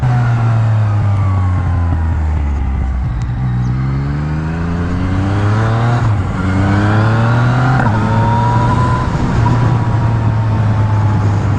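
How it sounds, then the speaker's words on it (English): A 2018 Yamaha MT-09 SP motorcycle engine revs and shifts gears repeatedly with a quick shifter, pitch climbing and dropping with each change, the exhaust roaring steadily and cracking on shifts. "When you use a quick shifter, the exhaust gives that crack. That crack when it changes gear."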